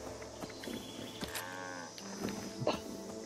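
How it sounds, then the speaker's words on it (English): Cattle mooing in the video game Fallout 76: a drawn-out low moo stretches through the middle, over busy game ambience, footsteps and scattered clicks, with a brief grunt-like burst near the end. "Fucking cows."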